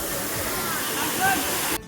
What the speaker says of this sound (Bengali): অবশেষে কাঙ্ক্ষিত ঝর্ণা